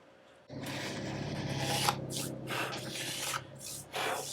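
Close, scratchy rasping strokes of a sanding block rubbed back and forth over a 1970 Les Paul Custom guitar during a re-fret, repeating in an uneven rhythm, with no voices.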